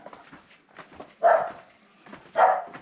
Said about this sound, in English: Set the dogs off.